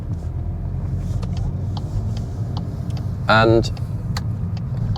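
Interior of a Volkswagen Golf Mark 8 on the move, a steady low road and engine rumble with faint ticking, and a person briefly speaking over it.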